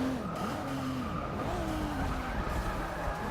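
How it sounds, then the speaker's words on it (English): A race car's tires squeal and skid under braking through a corner in Forza Motorsport 6, the wavering screech riding over a steady engine drone with no talk. "if I even tap the brakes in the corner, I'm going sliding"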